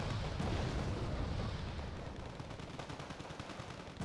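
Dense rumbling bursts of tank gunfire from an AMX in Wargame Red Dragon, heavy booms blending into a rolling battlefield din that thins toward the end, with no talking.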